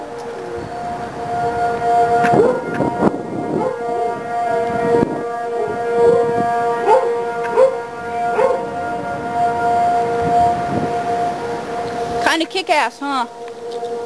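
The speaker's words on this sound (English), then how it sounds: "This is the siren going off for the first time since I've been home." A civil defense siren sounds a tornado warning in the Hickory Hill area of Tennessee, wailing steadily and loudly while a dog howls along. A person speaks briefly near the end.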